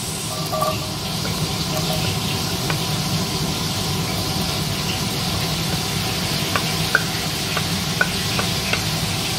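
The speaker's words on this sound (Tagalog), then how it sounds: "habang nagpiprito tayo, igigisa natin yung sibuyas" Fish frying in oil while onions sauté in the same pan, a constant sizzle with faint stirring and occasional crisp pops and clinks, close and alone.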